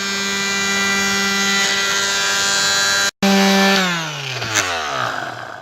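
Power sander working on a Georgian door surround during restoration, a loud, steady motor whine close by that cuts out briefly, restarts, then winds down with falling pitch.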